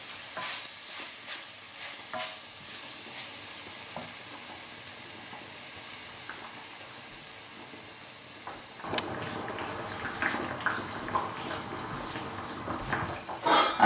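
French beans and carrots sautéing with garam masala in a pan, a steady soft sizzle with stirring scrapes and light clinks of utensil on metal, growing busier and louder partway through, no talking.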